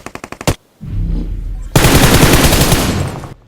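Bursts of automatic gunfire in the BGMI mobile game: a short rapid volley, a pause, then a rumbling lower stretch and a long sustained loud burst of fire, close and dominant with no talk.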